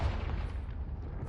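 A Confringo blast spell in Hogwarts Legacy lands as a single deep, rumbling boom that fades slowly, heard alone.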